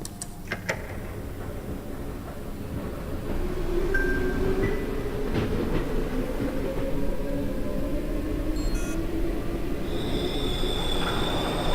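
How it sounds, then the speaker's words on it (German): A train rumbles and rolls through a dark underground rail tunnel in the horror game Cry of Fear, with a steady low roar, a rising squeal of wheels and scattered metallic clanks, and no talking. "Jetzt hat der Zug das Ding weggerammt."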